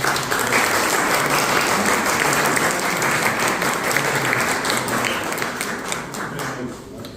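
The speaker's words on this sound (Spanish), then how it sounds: "al profesor David Galeano un fuerte aplauso y muchas gracias" An audience in a museum hall applauds a professor after a talk on myths and legends, dense sustained clapping that stays loud across the whole stretch before thinning slightly at the end.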